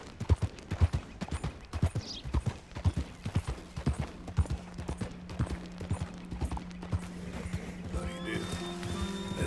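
A horse named Mephisto trots in Red Dead Redemption 2, its hooves clip-clopping in a steady, close rhythm throughout, with a sustained tone and ringing chimes rising near the end.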